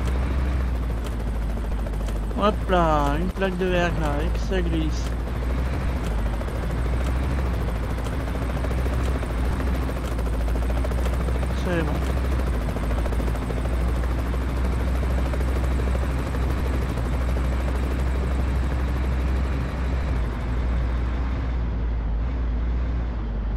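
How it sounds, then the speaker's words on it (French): Helicopter passing over a road in Canada, a loud continuous low rotor drone that persists throughout, with someone talking briefly early on and the drone slowly fading at the end. "Parce qu'on a quand même des hélicoptères qui passent."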